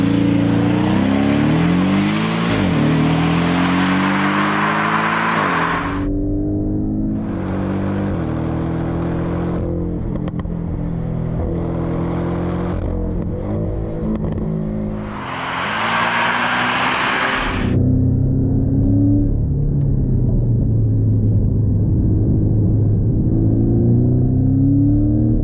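A Porsche 718 Cayman GTS, a 375-horsepower mid-engine car, accelerates through several gears, loud rising engine notes broken by brief shift dips and rough hissing bursts, then settling into a deeper steady drone.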